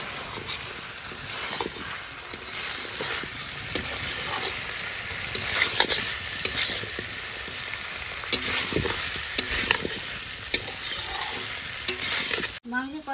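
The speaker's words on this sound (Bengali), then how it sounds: "মাংস কষানো হয়ে গেছে, এবার ভুট্টা কাটা দিয়ে দেবো।" Chicken sizzles in a hot pan while it is stir-fried, with close scraping and clinking stirs over a constant frying hiss, irregular and moderately loud throughout, with no talking.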